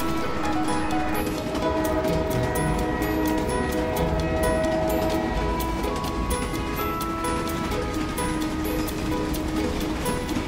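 A train rolling along the rails, heard as a loud, unbroken rumble with steady droning tones layered through it, continuing for the full stretch and never pausing.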